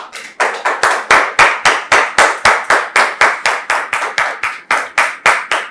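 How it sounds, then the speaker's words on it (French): A church congregation claps for the pastor's arrival in loud, evenly spaced unison claps, about three per second, close and sharp without voices. "Nous recevons le pasteur sous vos applaudissements avec la permission du pasteur Tchoumou"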